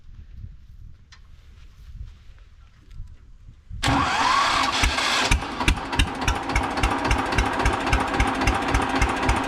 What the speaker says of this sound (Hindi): स्टार्ट की आवाज़ सुनने का एक मज़ा अलग ही है।